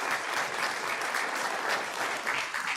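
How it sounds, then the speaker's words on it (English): Steady applause from an audience at a city council meeting, dense clapping filling the whole stretch at an even loudness without a break. "give them a round of applause"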